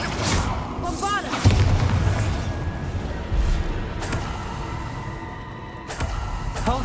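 A Bombarda explosion spell in the Hogwarts Legacy video game sets off deep booms and thuds among whooshing magical effects and other spell sounds, with several impacts spaced across the stretch.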